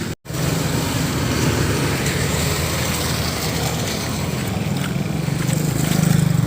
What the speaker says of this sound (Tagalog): Ngayon po napakaraming motor.